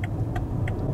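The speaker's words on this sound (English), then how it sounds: "And of course, you hear the noise of the 8-cylinder." A 2017 BMW 750i xDrive's 8-cylinder engine hums steadily while driving, a low continuous drone with faint ticking above it, heard from inside the car.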